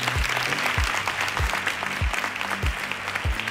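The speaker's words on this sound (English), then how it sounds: "I think you should clap." Audience applause at a Black Maternal Health Week conference, steady broadband clapping throughout, with a series of low thumping pulses recurring about every half second beneath it.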